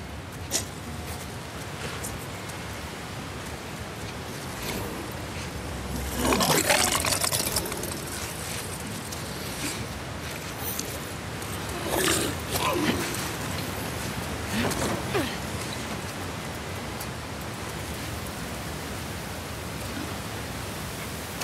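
A waterfall cascading inside collapsed sewers in the video game The Last of Us Part II, a constant broad rushing roar with occasional swells, while a person talks over it.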